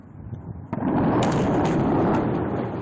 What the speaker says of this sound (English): Today, Tehran woke to terrifying booms that engulfed the night sky in flames